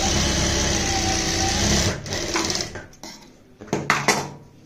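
A sewing machine runs steadily while stitching pintucks on a kurti, a close, even mechanical whir for about two seconds that then stops, followed by a few sharp clicks and taps of the machine being handled.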